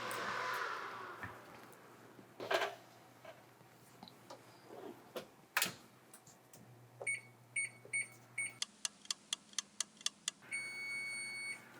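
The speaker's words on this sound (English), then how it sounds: "there's our timer" An oven timer goes off during baking as a quiet run of short, evenly spaced electronic beeps. Scattered kitchen clatter and taps come before it in a quiet room.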